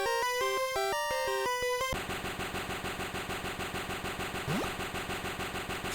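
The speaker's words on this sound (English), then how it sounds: "This fucking motorcycle noise is so annoying, dude." A motorcycle engine sputters in rapid, regular rhythmic bursts inside a video game, coming in right after a short burst of musical tones and then running on steadily, with a brief rising whine partway through.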